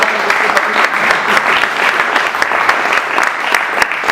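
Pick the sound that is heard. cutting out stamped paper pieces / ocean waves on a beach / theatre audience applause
theatre audience applause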